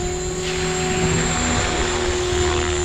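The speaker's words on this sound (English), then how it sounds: "Now that was me just boosting the throttle a little." Synergy 516 RC helicopter engine droning steadily and loud with whirring rotor, its pitch edging up slightly as the throttle is pushed to stunt 2 at about 2,500 RPM, no talking.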